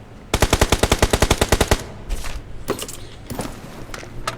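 Gunfire in a battle royale video game: a rapid automatic burst of about fifteen evenly spaced shots, followed by a few scattered, ragged volleys, loud and close with no talk.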